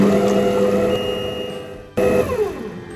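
A Fagor Connect kitchen robot mixing génoise batter for a chocolate Yule log at speed 4 while heating to 65 degrees gives off a steady, close motor whine that drops out briefly and then starts up again.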